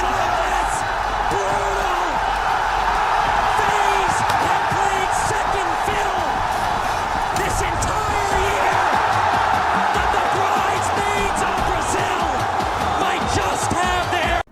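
Dense, roaring esports crowd in a São Paulo arena at the Six Invitational playoffs, with constant cheering and chanting, steady and loud throughout, with sharp bangs and whoops rising out of the din.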